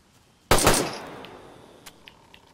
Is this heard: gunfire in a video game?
yes